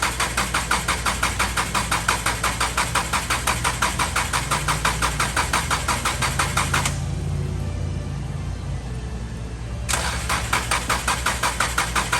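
A Subaru engine runs with a rapid, even chugging rhythm, cuts out for about three seconds and then catches again. It is loud and close, with no talking.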